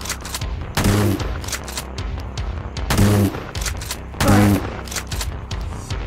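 Gunfire in the horror video game Poop Killer 5, with three heavy, booming volleys at roughly one-second intervals over a constant background din, no talking.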